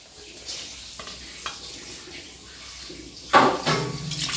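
Water poured into a pot for chicken biryani, a quiet stir and clatter at first, then a sudden louder splashing pour near the end, with no talking.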